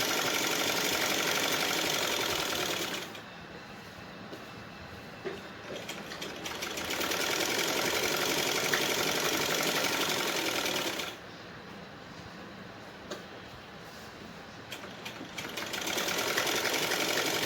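Sewing machine stitching through stiff buckram, a loud rapid mechanical whirring in two long runs, each dropping to a quieter idle before starting again, with no talking.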